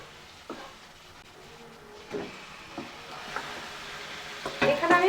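Marinated chicken added to a pan of fried onions in oil, crackling and sizzling steadily with scraping stir strokes and a louder burst of frying near the end, alone without talk.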